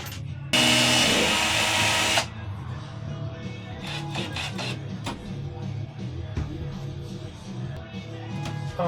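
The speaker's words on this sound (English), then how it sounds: "I'm just about to drill some holes" A power drill whirs loudly for about two seconds drilling holes in the metal of a coffee trailer, then stops, followed by clattering, tapping and handling noises nearby.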